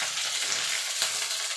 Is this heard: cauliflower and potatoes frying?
yes